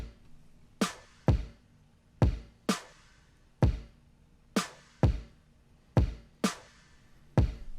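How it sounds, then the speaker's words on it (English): A layered kick and snare pattern in a produced hip-hop style track, with sharp punchy hits in a steady alternating rhythm and short decays between them, played alone and at moderate level. "And so that makes up the base of the kick and snare pattern."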